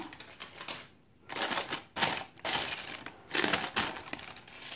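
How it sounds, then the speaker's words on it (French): Baking paper is peeled off a freshly baked génoise sponge in short crackling, crinkling bursts, close and fairly quiet, coming in four or five tearing pulls with brief pauses between. "je vais essayer de retirer le papier de cuisson"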